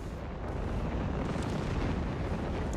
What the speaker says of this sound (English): The creeping barrage coming in.